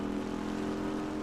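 A motorcycle engine runs with a steady, continuous droning hum, fairly close and constant throughout, with no talking over it.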